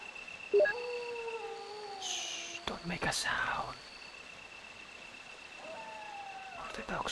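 Dogs howling in the Resident Evil Director's Cut video game, a couple of drawn-out wavering howls at the start and again near the end, with quieter game noises between.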